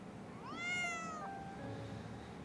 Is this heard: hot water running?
no